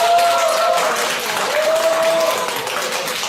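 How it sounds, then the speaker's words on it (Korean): A hiking club group of Dongguk University claps together in a dense, sustained round of applause, loud and close, with voices mixed in. "박수 한번 주세요."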